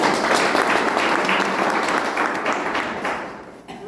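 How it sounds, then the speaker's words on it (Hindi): A crowd of attendees applauding a participant at a business seminar, loud continuous clapping that tapers off toward the end. "ग्रेट यार, बंदे की तालियां"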